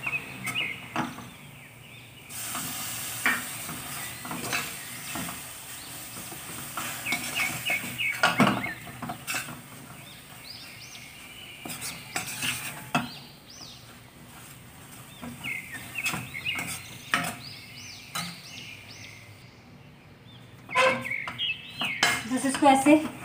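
A spoon or spatula scrapes and knocks against a pan while a brown Mathura peda mixture is stirred, in irregular bursts of clinks and scraping with quieter gaps and faint chirping in the background.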